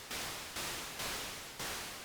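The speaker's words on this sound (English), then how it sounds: "Now this can be set up to play noise, where every note just produces white noise." White noise from a Vongon Replay synth, played as four separate held notes, each starting with a sharp onset and fading slightly before the next, broadband hiss with no talk.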